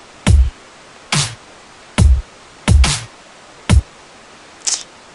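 Dubstep drum pattern of short, punchy electronic kicks and snares, about six hits at a slow half-time pace with gaps between them, loud and dry with no talking.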